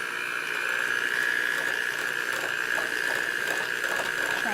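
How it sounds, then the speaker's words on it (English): A hand mixer whipping cream cheese frosting, giving a steady, close electric whine with a constant high-pitched motor tone and faint rattling from the beaters, and no talking. "All right, then I'm gonna use my hand mixer."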